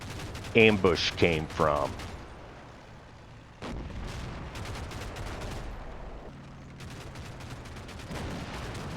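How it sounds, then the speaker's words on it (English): Combat Mission: Fire and Brigade strategy game battle: an immobilized Sherman tank fires toward a German position, a sharp blast around four seconds followed by lingering rumble and scattered gunfire, with a voice talking briefly at the start. "the immobilized Sherman fires at where he thinks the German"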